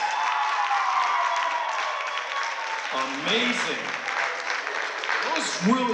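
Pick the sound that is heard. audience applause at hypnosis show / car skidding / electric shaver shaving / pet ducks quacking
audience applause at hypnosis show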